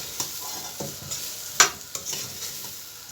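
Vegetables sautéing in a pot for lentil soup, a close continuous sizzle broken by several sharp spoon scrapes and clinks while being stirred, no talk.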